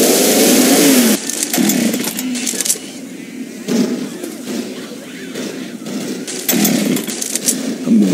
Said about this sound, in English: Chainsaw here.